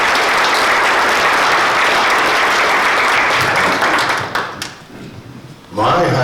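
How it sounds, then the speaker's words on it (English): A community forum audience gives a warm round of applause to welcome a state representative. The clapping is loud and sustained, then thins out and fades, and a voice starts speaking just as it ends. "let's give him a warm round of applause to welcome him"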